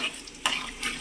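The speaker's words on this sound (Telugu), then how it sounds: "ఇప్పుడు ఆవాలు, 1 స్పూను ఆవాలు ఇలా వేసుకోవాలి." A teaspoon of mustard seeds goes into hot oil in a pan for a Nellore-style fish curry, giving a soft, continuous sizzle broken by two brief, brighter crackling bursts, with no talking.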